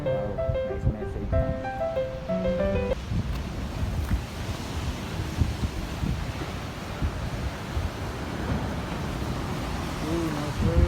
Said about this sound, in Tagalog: Ooh, nice wave.